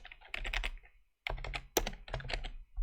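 Close clicking of fingers typing on a computer keyboard, quick uneven bursts of keystrokes with a brief pause midway, no voices.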